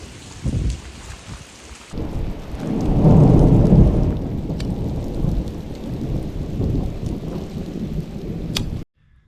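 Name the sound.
thunderstorm with rain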